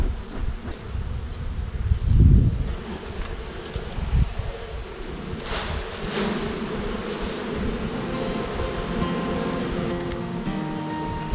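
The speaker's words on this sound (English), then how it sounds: "Lots of bees." Honey bees buzz in a dense, continuous drone while a beehive is opened for inspection, with a couple of louder swells up close and faint handling noises beneath.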